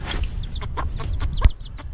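An ash-grey hen with five chicks gives a run of soft, close clucks and peeps in quick succession, with one sharper knock partway through.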